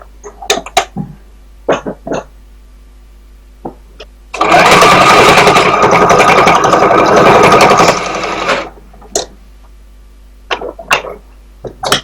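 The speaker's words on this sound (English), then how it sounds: "now I'm going to sew this on the side here to make it nice and" A sewing machine runs in one steady, loud burst of about three seconds while stitching the side of a cloth face mask, framed by quieter clicks and handling of fabric before and after.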